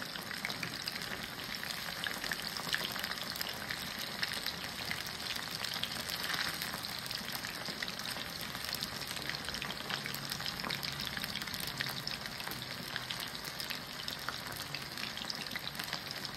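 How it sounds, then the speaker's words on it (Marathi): Chicken 65 pieces deep frying in hot oil over a high flame, a loud, steady, dense sizzle and crackle that holds unbroken from start to finish with no talking. "हे बघा, हे आता तळते मी. ते चांगलं आपल्याला तळून घ्यायचं आहे म्हणजे क्रिस्पी होणार ते."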